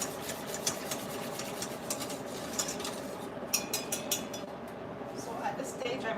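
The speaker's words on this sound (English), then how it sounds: "So this takes about 5 or 6 minutes of continuous stirring for it to thicken up." A spoon or whisk stirs dairy-free banana pudding as it thickens in a pot, a continuous run of soft scraping with small metallic clinks against the pot, fairly quiet and close.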